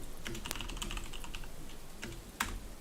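Typing on a computer keyboard, a steady run of quick, light key clicks up close, with one louder keystroke near the end and no talking.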